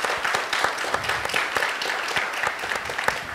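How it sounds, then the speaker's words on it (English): Applause from an audience at a state senate candidate forum, with close individual claps standing out in a dense, steady patter of clapping that lasts several seconds. "Can we have a round of applause and welcome our candidate"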